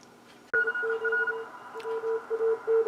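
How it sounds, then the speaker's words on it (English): Keyed CW Morse code tones received on a shortwave radio, a steady beeping pattern of short and long dits and dahs starting abruptly after a brief quiet moment and continuing clearly over a faint background hiss. "A little CW action here."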